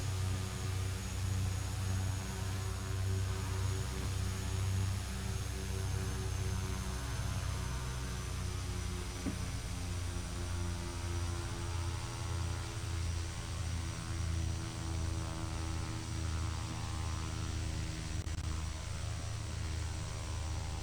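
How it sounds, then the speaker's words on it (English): A King Air 200 airplane running, heard from inside the cockpit: a steady, loud droning hum with a constant tonal whine and broadband rush that holds throughout without pause. "Can you guys hear the airplane okay?"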